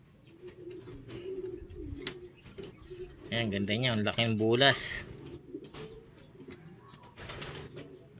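A pigeon or dove with opal-coloured plumage coos in a loud burst of repeated, throaty notes close by, while someone talks throughout the clip.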